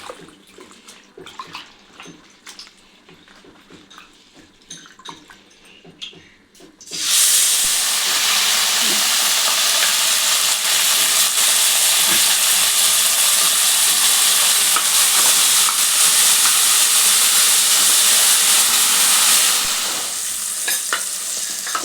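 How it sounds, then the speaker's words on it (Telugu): Washed mint and fenugreek leaves go into a pan with two spoons of hot oil. After several quiet seconds of faint clatter, a loud, steady hissing sizzle erupts and continues, easing slightly near the end. "కలర్ వచ్చే వరకు వేయించుకోవాలి పుదీనా మెంతి కూర మంచి బ్రౌన్ కలర్ రావాలి"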